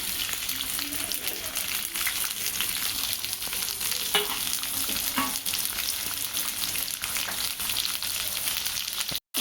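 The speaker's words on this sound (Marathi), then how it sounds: "आता आपण कांदा टाकून घेणार आहोत, त्यासोबतच टोमॅटो पण टाकणार आहोत, मिरची पण टाकणार आहोत" Onion, tomato, chili and green peas fry in hot oil for homemade Maggi, giving a constant loud sizzle with occasional stirring scrapes, close up and without talk.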